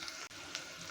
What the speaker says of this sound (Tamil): 1 ஸ்பூன் கடுகு பொரிஞ்சிச்சு